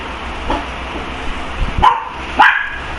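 A dog indoors lets out a couple of sharp barks near the end, preceded by a soft yip, close and fairly loud against a quiet room hum.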